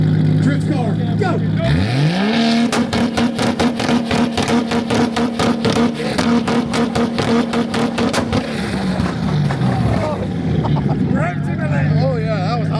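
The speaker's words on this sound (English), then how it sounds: "Well, I gotta hear the drift car." A drift car engine revving hard at a two-step rev battle competition, climbing to a sustained high-pitched scream with rapid limiter stutter for several seconds, then dropping back to idle, loud and close, with crowd voices around it.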